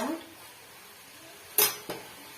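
Dishes and a serving bowl clink while sambar with drumstick leaves is served: a soft clatter at the start, then two sharp, close metallic knocks near the end in an otherwise quiet kitchen.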